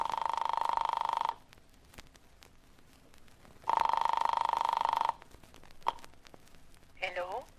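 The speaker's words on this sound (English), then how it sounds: "I flicked the telephone dial to the number in her note." Rotary telephone ringing in an office: two long, loud electric rings separated by a pause, with faint dial clicks between them and a brief voice at the end.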